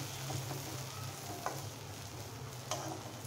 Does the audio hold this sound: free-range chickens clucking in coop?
no